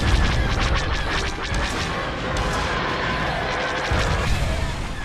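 Space battle in Star Wars: Empire at War with ships firing weapons, a dense, continuous barrage of rapid laser shots and crackling impacts, loud and unbroken throughout.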